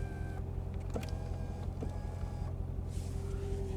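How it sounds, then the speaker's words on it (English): Power tilt and telescopic steering wheel motor in a 2014 Chevrolet Corvette Stingray 1LT Z51 coupe, a soft electric whine running in short stretches, with faint clicks and adjustment pauses inside the quiet cabin. "The steering wheel is power, tilt, and telescopic."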